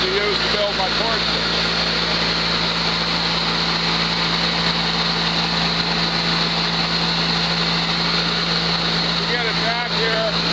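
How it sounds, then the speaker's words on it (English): The engine of a Mighty Mite bandsaw mill idles low outdoors, a steady buzzing drone with a constant hum running unchanged through ten seconds, with faint voice-like chirps near the start and end. "reduce the RPM of the engine, going down to a little more than an idle, and let it cool off for a while"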